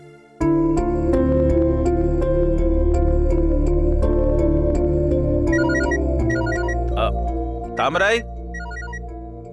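A melodic electronic ringtone plays over a steady musical drone, repeating its tones for several seconds, loud and close, with a brief voice near the end.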